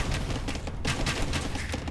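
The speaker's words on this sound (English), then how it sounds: "he's going to have to deal with these bombard cannons" Bombard cannons firing in a real-time strategy match on the Nile Delta map: a continuous rumble of heavy booming shots overlapping one another, dense and loud throughout, with no gaps.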